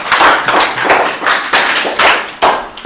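A group of children clap their hands in a classroom, a loud burst of repeated, fairly even claps that continues alone.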